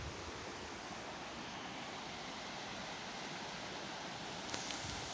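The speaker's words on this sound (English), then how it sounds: "you can hear the river as you're walking across here" A river flows beside the Pontypool train tunnel, a faint, even rushing of water that carries on without a break.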